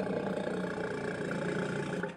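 A walrus's low, rough, continuous roar, loud and sustained for a couple of seconds before trailing off.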